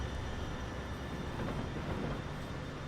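Trains in the railway game Transport Fever rumble along as American, Russian and French trains race through tunnels, a steady low rolling drone with no break.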